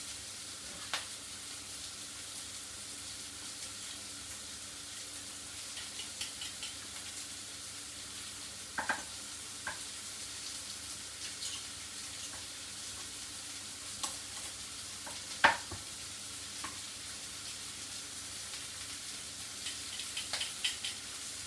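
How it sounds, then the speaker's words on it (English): Garlic sizzles quietly in a pan as it is stirred, a soft steady frying hiss broken by occasional scrapes and light clinks of the utensil, with no talking. "Make sure you give that a nice stir because you don't want to burn that garlic."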